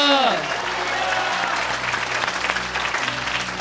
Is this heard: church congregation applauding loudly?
yes